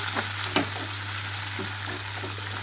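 Fenugreek leaves frying on a low flame for a dhaba-style lasooni methi curry, a steady close sizzle with soft scrapes of a spatula stirring now and then, and a constant low stove hum beneath.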